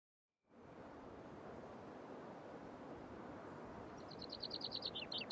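Bird song chirps over a steady wash of ambient noise in the survival game Myth of Empires, with brief bright chirp phrases near the end.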